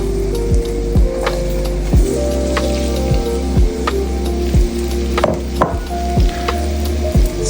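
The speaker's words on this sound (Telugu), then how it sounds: "సో ఈ ఆయిల్ ఫ్రై అయ్యేంత వరకు లో ఫ్లేమ్ మీద ఫ్రై చేసుకుంటాను." Peeled, cut potatoes frying in hot oil over a low flame, a continuous crackling sizzle with scattered pops and occasional spoon knocks against the pan, close-up, loud and without talk.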